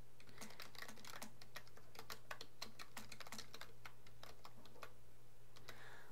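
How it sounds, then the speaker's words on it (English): Someone types a search query on a computer keyboard, a quick, close run of light key clicks with brief pauses over a faint steady hum. "we'll go ahead and just type it in"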